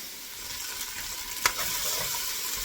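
Onions fry in a pan with a steady, faint sizzle. A single sharp stirring clink stands out partway through, and no one speaks.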